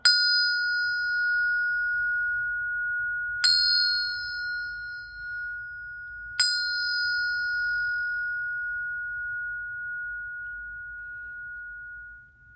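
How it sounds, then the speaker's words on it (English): A mindfulness bell rings three times, each strike a bright, clear ding that hangs in a long, steady sustained tone before the next, with the final ring fading slowly into quiet. "I'm going to hit the bell 3 times and come to center"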